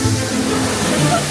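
A waterfall splashes at a Tokyo DisneySea ride on a rainy day, giving a steady, loud rushing wash of water with a voice speaking over it.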